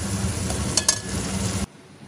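Onions fry in a pan in a home kitchen where mutton keema is being cooked, giving a steady, close sizzle for about a second and a half before cutting off abruptly.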